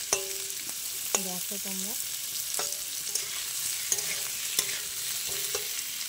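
Onions fry in a pan for a cabbage dish, a steady close sizzle punctuated by repeated scraping stirs of a spatula, with a brief spoken phrase over the cooking.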